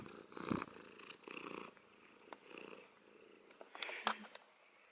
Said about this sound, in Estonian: Kuulsite seda nurrumist, jah?